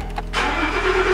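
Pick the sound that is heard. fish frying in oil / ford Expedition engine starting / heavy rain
ford Expedition engine starting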